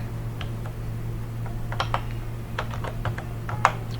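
Keys clatter on a computer keyboard in quick irregular bursts of clicks, close and fairly quiet, with a steady low hum underneath and no voices.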